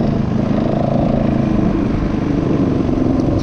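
Yamaha WR450 dirt bike doing wheelies in a field, a steady, close engine roar with buzzing, rattling texture and little change in pitch, alone without talk.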